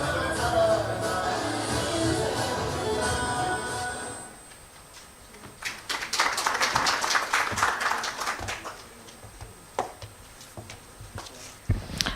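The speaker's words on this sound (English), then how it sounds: "Once again, a big round of applause for the AV." Audience applause at a social-impact event in Gadchiroli fills the room in a sustained burst of many hands clapping, rising after a stretch of music and fading into scattered claps.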